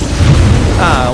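A car engine in GTA 5 fires up after a turbo button is pressed, a short loud booming burst that settles into a rising whine within about a second.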